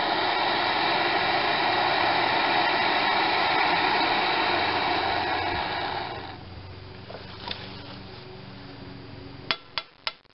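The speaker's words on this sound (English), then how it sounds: "Just giving a little heat with the torch." A propane torch roars steadily, close up, while heating a starter bolt on an Ingersoll Case 448 garden tractor with an Onan twin B48M engine, then quiets, followed by a few sharp metallic taps.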